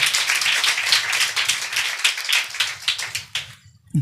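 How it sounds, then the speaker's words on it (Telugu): A church congregation claps together in a dense, steady burst of many hands, loud and close, fading out after about three and a half seconds. "చప్పట్లు కొట్టి ప్రభువును ఘనపరచుదాము గాక, గట్టి కొడదాము గాక దేవునికి"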